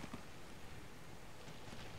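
Steady rain falls in the video game Rome: Total War, a continuous soft hiss of drops that holds at an even level throughout with no voices.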